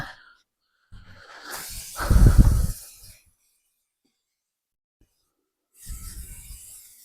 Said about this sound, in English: loaf pans with non-stick cooking spray. a generous amount so it will fall out